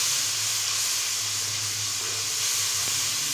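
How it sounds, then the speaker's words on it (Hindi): Masala with salt, turmeric and black pepper frying for chicken karahi, a steady close hiss and sizzle from the pan with no voices. "मसाले को अच्छे तरीके से भून लेंगे।"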